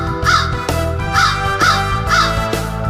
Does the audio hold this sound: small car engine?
no